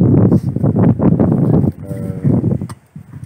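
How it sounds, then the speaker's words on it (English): Loud, gusty wind buffets the microphone in rough, uneven bursts, easing briefly before rushing back in. "it's just so windy"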